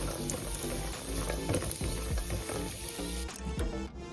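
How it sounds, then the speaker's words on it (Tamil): Continuous crackling sizzle of cashews and raisins frying in hot ghee, steady and close, with occasional stirring clicks. "முந்திரியும் திராட்சையும் நெய்யில் பொன்னிறமாக வறுத்து எடுத்துக்கோம்"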